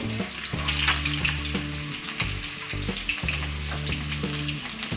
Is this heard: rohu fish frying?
yes